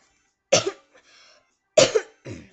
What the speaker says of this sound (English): Yeah, I'll probably be coughing.